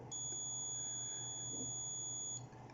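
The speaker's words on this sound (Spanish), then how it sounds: "Agarraremos el multímetro en continuidad y verificaremos el puente entre los dos terminales grandes." A thin, steady multimeter continuity beep, testing a relay's terminals on a Nissan Serena/Vanette, sounds continuously for about two seconds, then cuts off, over a low hum of background noise.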